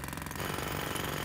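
A jackhammer in a demolition video game breaks up a building, a loud, close, continuous rattling hammer that pounds steadily throughout.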